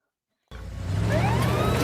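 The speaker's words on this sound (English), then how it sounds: "Seagal takes off with his siren while they sneak up on the place." A police siren in the Steven Seagal's True Justice video game begins abruptly after a half-second of silence, its rising and falling wail growing louder over a steady vehicle rumble, with no voices.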